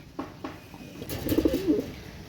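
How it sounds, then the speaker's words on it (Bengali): Ferozpuri pigeons coo close by, a low, bubbling, rolling coo of about a second after a couple of faint soft taps. "অনেক সুন্দর কবুতর এটা হচ্ছে দুটোই কিন্তু ফিরোজপুরি কবুতর"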